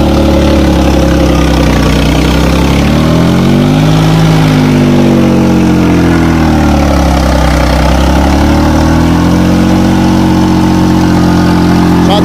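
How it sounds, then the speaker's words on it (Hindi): A loud New Holland tractor engine chugs steadily at close range, its low throbbing pitch rising and falling slightly as it idles and revs gently. "सादा ट्रैक्टर है भाई"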